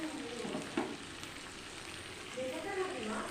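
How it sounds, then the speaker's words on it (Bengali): Hot water hits a pan of sizzling fried spice paste of coriander, cumin and ginger, giving a soft hiss and crackle at low volume while a voice talks faintly nearby. "দেখো গরম জলটা দিয়ে দিলাম।"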